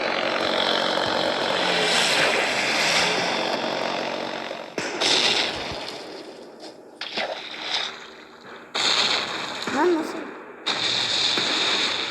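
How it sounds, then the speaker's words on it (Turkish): Torpedo plane flying in the Sea Battle 2 naval video game, a loud, continuous buzzing propeller drone that cuts in and out in bursts, mixed with other game noise. "Torpido uçağımızı kullanalım."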